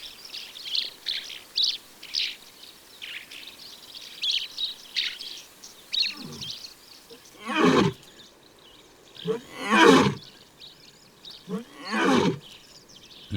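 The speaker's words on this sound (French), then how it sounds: "Les lions disposent de toute une gamme de cris." Lions roaring in the African savanna, several deep, drawn-out roars rising and falling at steady intervals, loud and fairly close, after a stretch of bird chirping in the background.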